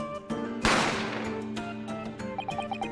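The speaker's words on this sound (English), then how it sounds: "A gunshot rang out" A single sharp gunshot sound effect from The Great Ace Attorney cracks out, a loud burst that decays over about a second amid tonal game music, alone without speech.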